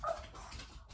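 A dog lets out a short, high whimper, faint and brief, followed by low background rumble in a quiet room.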